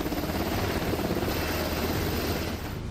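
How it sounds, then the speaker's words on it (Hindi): A Black Hawk helicopter landing special forces near waves at the shoreline, a loud, steady, dense rotor roar that fills the whole clip without a break. "इसके बाद ब्लैक हॉक हेलीकॉप्टर भी स्पेशल फोर्स को लहरों के पास उतारता है।"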